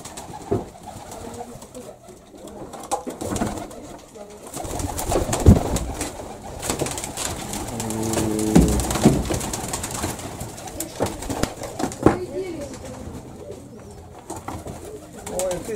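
Pigeons cooing in a dovecote, several birds giving soft, repeated coos up close over a steady background of rustling and shuffling.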